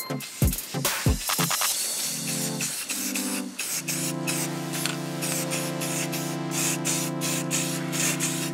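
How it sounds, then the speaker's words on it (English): Spray can painting replica Apex Legends Sentinel rifle parts: a few sharp bursts at first, then long continuous close hissing sprays with a steady underlying hum, no talking. "give all these pieces a coat of paint, and then start the final assembly and some of the detail work"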